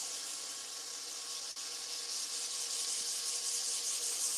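Steady dry sanding of a slimline pen blank spinning on a wood lathe, a continuous close, even abrasive hiss with a brief dip partway through, no voices.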